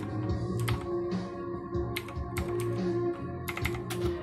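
Keystrokes on a computer keyboard entering a server connect command in a console for Halo Online ElDewrito, with close, quick clusters of clicks and short pauses over a steady background hum of game music.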